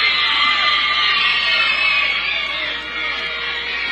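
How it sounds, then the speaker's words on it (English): Roaring crowd at a women's CONCACAF Gold Cup soccer match between Anguilla and Curacao, a loud sustained wash of cheers and high screams from young fans that stays steady and dense throughout. "the crowd goes wild"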